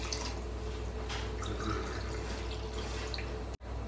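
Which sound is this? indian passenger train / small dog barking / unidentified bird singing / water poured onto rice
water poured onto rice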